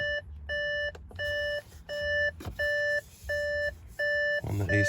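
Repeated warning beeps from an Audi A6, about seven evenly spaced electronic tones pulsing steadily in a regular rhythm, clear and close against low background rumble.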